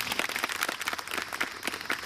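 Steady audience applause, many hands clapping together in a dense, continuous patter throughout.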